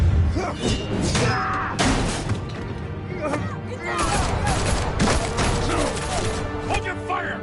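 Chaotic gunfire in the Batman Telltale Series game, rapid overlapping shots, crashes and impacts in a continuous dense volley, with voices shouting amid the clatter.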